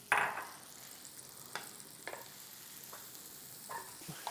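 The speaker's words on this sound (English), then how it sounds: "I have 4 cloves of garlic that I've already diced up that we're just going to throw in here. Get a quick little saute on." Diced onion and garlic sautéing in a pan, a soft steady sizzle close by, broken by a few scraping stirs.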